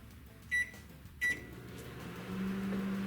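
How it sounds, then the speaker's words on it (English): A microwave oven heats a snack for forty seconds: two short bright beeps ring out near the start, then the steady low hum of the running oven sets in and holds. "snack in the microwave,"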